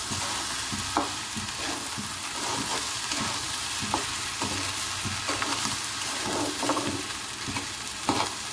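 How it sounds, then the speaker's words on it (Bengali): Rice fries in a pan for pulao, giving a continuous soft sizzle broken by the scrape and clink of stirring at irregular intervals, close and with no voices. "চালটা প্রায় ভাজা হয়ে গেছে।"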